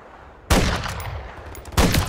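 Gunfire in the Call of Duty Modern Warfare III campaign: two heavy bursts of shots roughly a second apart, loud and close, each ringing out into a rumbling decay.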